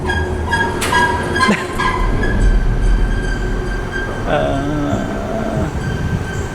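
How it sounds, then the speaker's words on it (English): A train rumbles past close by, wheels grinding with high metallic squeals and a steady low roar throughout, no voices heard. "I'm pretty sure a train's coming"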